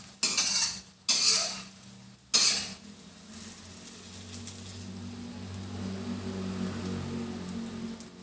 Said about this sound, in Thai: ไข่เจียวรับด้านได้เลยค่ะ